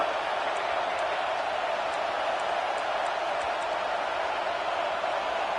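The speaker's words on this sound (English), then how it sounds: "here comes the noise. This crowd is trying to inspire this defense to make a big red zone stop." A football stadium crowd roars steadily during a USC vs Ohio State playoff game as the defense faces a red zone stand, a dense, unbroken wall of noise with faint whistles poking through.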